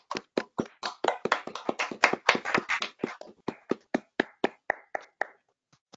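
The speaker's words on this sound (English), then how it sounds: "give Deia a nice round of applause here." Scattered hand clapping from a small online audience at a meet-the-director Q&A for a documentary film: a handful of people clap unevenly, dense at first and then thinning to single, spaced claps before stopping.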